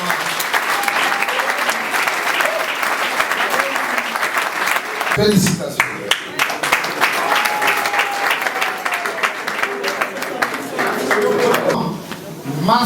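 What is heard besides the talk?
audience applause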